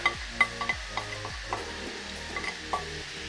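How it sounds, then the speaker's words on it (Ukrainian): Vegetables stewing in a pan give a soft, steady sizzle under a few light stirring clinks and taps, close and fairly quiet. "Овочі тушкуються."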